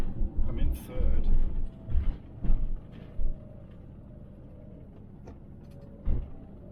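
A CV20 campervan engine labours in third gear up a steep hill near Combe Martin in Devon, a low steady rumble running beneath bursts of conversation inside the cab.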